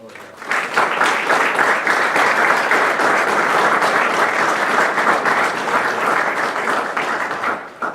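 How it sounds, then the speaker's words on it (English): A crowd applauds at a Naval ROTC change of command ceremony, a dense, steady wash of clapping that swells in quickly and holds evenly for several seconds before tapering off. "I'd like to give both the incoming and the outgoing folks a round of applause"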